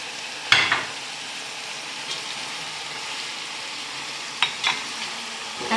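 Steady sizzling hiss of spices, including turmeric, frying in a hot pot for chicken soup, with a few sharp clinks of a utensil stirring, close by.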